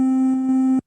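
A steady, simple triangle-wave tone in the style of the Nintendo NES, played on an MPC, holds one bright pitch for nearly a second before cutting off abruptly.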